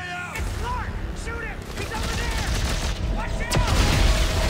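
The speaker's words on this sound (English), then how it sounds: "Shoot him!" Rapid bursts of gunfire and booms in the sci-fi horror shooter Dead Space 3 during co-op combat, loud and dense, with shouted voices over the shooting.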